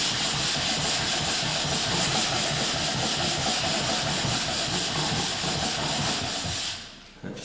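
A hand plane's sole is rubbed back and forth on finer grit abrasive, a loud, continuous rhythmic scraping up close that stops abruptly at the end.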